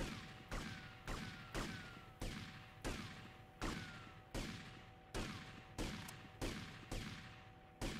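Gunfire in the video game GTA Vice City, a regular series of sharp single shots about twice per second, each with a quick fading tail, fairly faint and with no talk over it.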